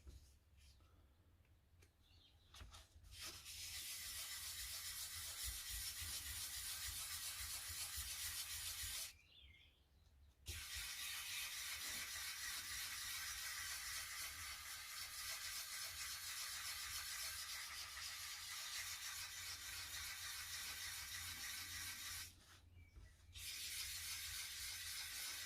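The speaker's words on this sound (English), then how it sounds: "Now I'm going to do some wet sanding up to from 600 up to 3000." Steady wet sanding of an oak and resin coaster with 600 to 3000 grit paper, a continuous gritty rubbing hiss close by that runs for long stretches with two brief pauses.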